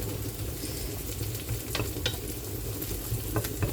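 Onions cook in a pan for egg fried rice, giving a continuous soft sizzle with occasional light stirring scrapes, close and steady with no talking.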